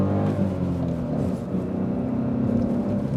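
A Smart Fortwo with a 1-liter three-cylinder engine accelerates in first gear, its throbbing engine note rising steadily as heard from inside the cabin, loud and continuous.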